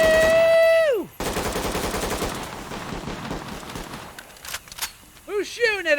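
Rapid automatic gunfire rattles close and loud in a Ready or Not tactical shooter match, a dense sustained burst of shots followed by sporadic cracks, with a tonal sweep at the start and voices nearby.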